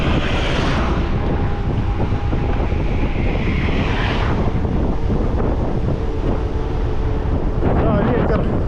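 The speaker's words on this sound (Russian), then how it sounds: "Да, ветер." Strong wind buffets the microphone in a constant loud roar on a coastal road near Koktebel, Crimea, with rushing noise throughout and a voice briefly audible near the end.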